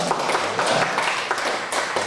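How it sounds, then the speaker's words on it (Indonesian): A Buddhist fellowship gathering claps for friends. Steady, dense applause runs loud and close through the whole moment without a break. "Tepuk tangan dong buat teman-teman semua"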